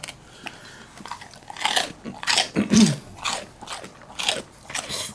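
A dog gnawing a leftover dog chew, with a string of crunchy bites and chewing sounds in an uneven rhythm, close and fairly quiet, no voices.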